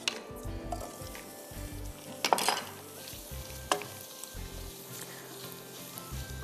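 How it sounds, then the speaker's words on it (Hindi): A boiled chana dal and potato mixture with red chilli powder and salt being sautéed in a pan, with soft sizzling under repeated scraping stirs and a few sharp metallic clinks of the spoon against the pan. "हम हल्का सा इसको सौते कर देते हैं ताकि दाल और आलू में इसका टेस्ट आ जाए"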